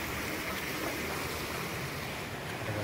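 A natural hillside stream flows near a temple in the Konkan, making a continuous, even rushing of water that fills the short stretch without voices.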